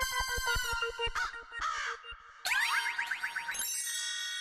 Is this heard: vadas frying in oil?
no